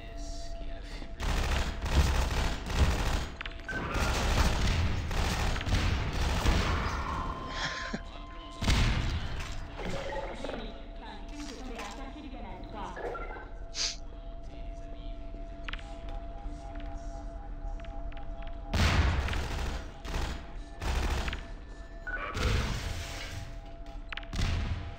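Repeated gunfire volleys and heavy booming grenade blasts in the video game Half-Life 2, loud bursts spread through the clip with quieter stretches of rattling shots between them.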